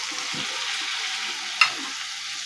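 Chopped tomato goes into cooked potatoes frying in a pan, giving a steady close sizzle with a soft stirring scrape and one sharp tap partway through, and nobody speaks.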